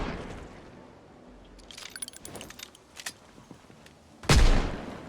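A single loud gunshot rings out near the end of a Project Zomboid game scene, aimed at a zombie, preceded by scattered clicks and jangling rattles over a quiet background.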